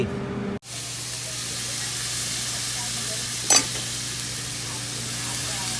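Pork belly stir-fried with chili in a hot pan gives a loud, steady sizzling hiss after a sharp start, with one brief spatter burst partway through and no talking.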